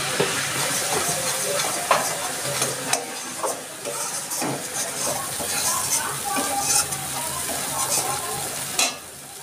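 Ground spices fry in a pan with a steady, close sizzle and hiss, broken by the scrape and clatter of stirring, as a spiced masala with cumin, coriander and Kashmiri chilli powder is cooked down for a light parshe fish curry.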